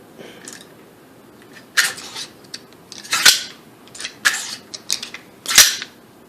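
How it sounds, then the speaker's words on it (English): AR-15 style rifle bolt carrier group slid back into its receiver during a home build, a series of sharp metallic clicks and clacks spaced over several seconds, close and distinct with quiet gaps between. "I'm going to go ahead and stick this bolt carrier group back in"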